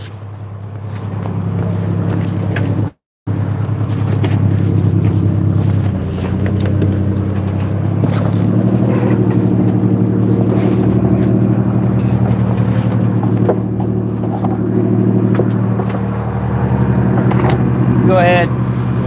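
A fishing boat's engine idles in a steady low throb during a halibut longline set, with wind buffeting the microphone, a brief dropout near the start and a short squeaky sound near the end.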